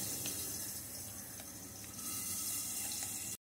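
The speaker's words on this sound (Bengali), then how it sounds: "এবার একটু জল দিচ্ছি জল দিয়ে আমি মশলাটা গুলে রেখে দেবো" Water poured from a tap or jug into chilli powder masala in a home kitchen, a steady splashing stream for about three seconds that stops abruptly.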